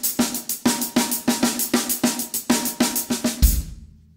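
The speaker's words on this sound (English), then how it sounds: "if I played a double paradiddle now between my hi-hats and the snare drum" A double paradiddle moves between hi-hats and snare drum with uneven stroke volumes, a steady run of close, sharp hits that ends in a louder crash-like accent and a ringing decay.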